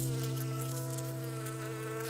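Honey bees buzz in a steady, continuous drone, close and fairly loud, with no voices over it.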